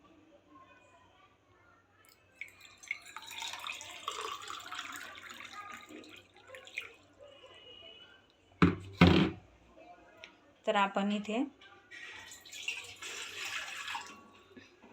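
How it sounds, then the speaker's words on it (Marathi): Someone talks while a measured glass of water is poured into a pot on a home kitchen stove in two short, splashy bursts partway through. "त्यामध्ये ना एक ग्लास पाणी ना मी त्यामध्ये असं मोजून टाकणार आहे"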